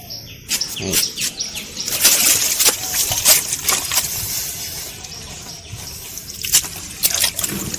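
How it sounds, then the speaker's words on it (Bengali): Water lily tubers being rinsed and splashed in water outdoors, with irregular splashing and dripping bursts throughout, while birds chirp and tweet in the background. "একইভাবে এই টিউবারটাকেও ভালো করে ধুয়ে নেব"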